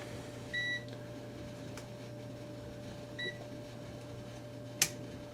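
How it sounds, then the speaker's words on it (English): Digital multimeter powering on with two short, clear electronic beeps about two and a half seconds apart, followed by a faint click. A steady low hum from the workbench sits underneath and nobody talks. "Let's turn on the multimeter."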